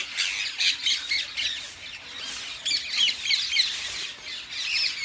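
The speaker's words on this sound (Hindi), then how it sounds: "देखो, हर तरफ तोते ही तोते, पेड़ पर, नीचे।" Many parrots squawking at once in Jaipur, a dense flock of harsh, shrill calls overlapping in repeated bursts, close and loud, with no talking.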